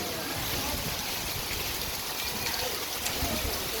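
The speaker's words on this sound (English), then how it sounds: "It's raining down the steps." Heavy rain pours down stone steps near the summit of Fansipan, Vietnam, during a mountain thunderstorm, a dense, continuous hiss of water that stays loud and unbroken throughout.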